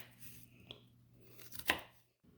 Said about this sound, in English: The reason I'm using whole ginger and whole garlic is for the flavor and the aroma that it gives.